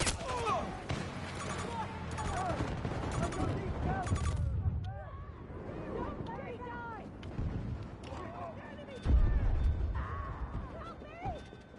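Gunfire in a Battlefield video game: bursts of shots and heavy booms crackle through a busy battle soundscape, with game voices talking over much of it and a loud blast near the end.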